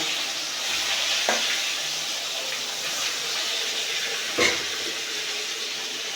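Steady sizzling of fish frying in hot oil, a continuous crackling hiss with a couple of brief clatters partway through.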